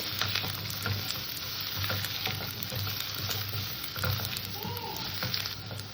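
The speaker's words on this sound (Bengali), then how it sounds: "তেলের মধ্যে আলু কটাকে ভেজে নেব আলু কটাকে আমি সুন্দর করে ভেজে নেবো" Steady crackling sizzle of potatoes frying in hot oil, close up, with occasional scraping stirs and a low hum.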